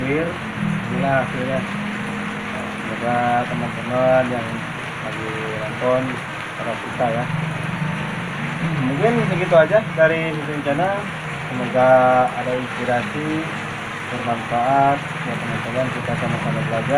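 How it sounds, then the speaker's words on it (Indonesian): Steady rain keeps up a broadband hiss during an outdoor session fitting stripe decals and clear coat on an RX King motorcycle. It stays close and continuous under someone speaking throughout. "Mohon maaf suaranya agak sedikit berisik karena lagi hujan ya."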